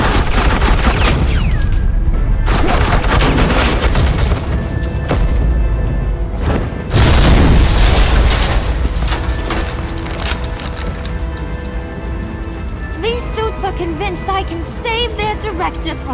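Suppressing gunfire in a Batman cartoon, sustained loud bursts of shots and thuds continuing throughout, dense and close, mixed with talk and action noise.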